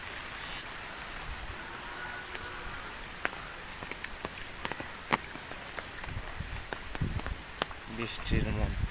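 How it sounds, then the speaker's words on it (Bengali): Heavy storm rain pours down on a village road, a dense continuous wash broken by sharp drips and knocks, with a louder burst near the end. "প্রচণ্ড ঝড় বৃষ্টি।"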